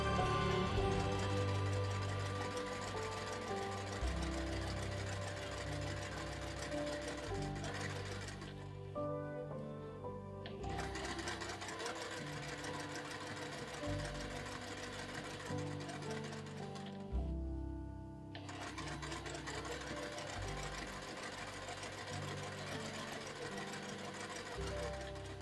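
A sewing machine stitches the lining of a quilted Christmas stocking, a fast, even mechanical whir and needle clatter running continuously up close, broken by two brief pauses where the stitching stops and restarts.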